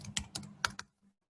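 Typing on a computer keyboard: a short run of about five crisp, close keystrokes in quick succession, then a faint final tap before quiet.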